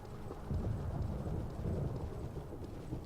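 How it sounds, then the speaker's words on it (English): Low distant rumble of thunder rolling across the landscape in Morrowind, a faint steady grumble that swells slightly and lingers without any voices over it. "We just caused the tail end of the thunder there"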